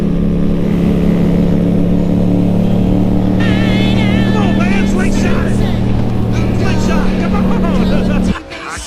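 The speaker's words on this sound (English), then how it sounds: "The Grom guys are definitely hating life right now as they are full throttle all the time" Honda Grom motorcycles held at full throttle on a group ride give a loud, steady engine drone that runs almost unbroken, and a voice talks over it before it cuts off near the end.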